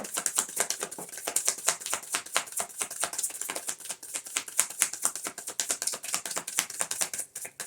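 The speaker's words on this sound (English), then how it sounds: "one full shuffle" Rapid crisp riffling clicks of cards being shuffled, a dense continuous flutter close by, with no speech.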